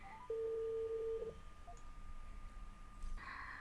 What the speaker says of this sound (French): Et on va passer l'appel téléphonique.